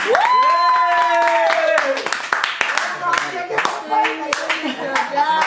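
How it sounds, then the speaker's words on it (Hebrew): Family clapping hands at a home birthday celebration, sharp claps in an uneven rhythm close by, with people talking and a voice over them. "כפיים לאביב!"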